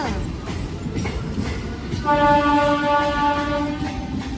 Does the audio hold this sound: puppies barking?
no